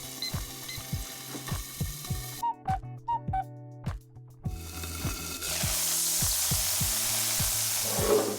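Meat sizzles and fries in a covered pan, with rhythmic clicks and pan knocks early on, then a steady, loud hiss of frying builds up close by, with no one talking.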